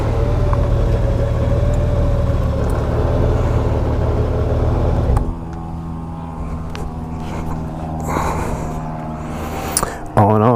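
A 2018 Honda Goldwing motorcycle engine runs steadily on a test ride, a loud close drone for about five seconds that then drops to a quieter idle with faint clicks and shifting noises.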